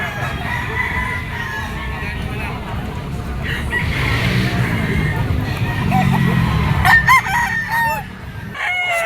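A rooster at a chicken market crows loudly near the end, rising over a constant crowd hubbub and someone talking.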